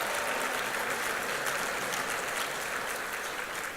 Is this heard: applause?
yes